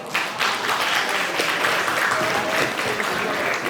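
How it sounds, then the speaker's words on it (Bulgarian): A studio audience bursts into loud, sustained applause, dense clapping that holds steady for a few seconds, close and full. "Аплодисменти пак"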